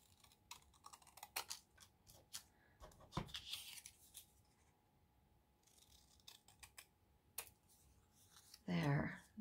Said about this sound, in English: I'm challenging myself today to just use my scissors.